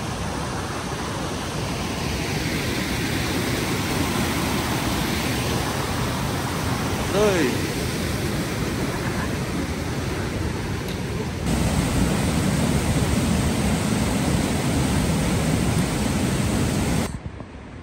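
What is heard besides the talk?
waterfall on trek near Pachpokhari, Nepal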